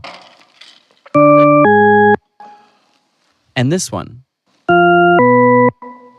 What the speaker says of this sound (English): It's an auditory illusion called the tritone paradox.